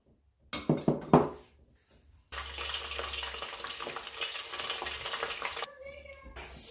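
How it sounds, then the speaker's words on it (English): Seasoned mackerel fish, salted and flavoured with aromats, frying in hot oil, a steady loud sizzle after a few clattering utensil knocks at the start, with the hiss fading near the end. "Now I will start by frying my mackerel fish."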